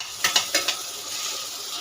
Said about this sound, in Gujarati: અમારી બટેકાનો માવો વઘારીશ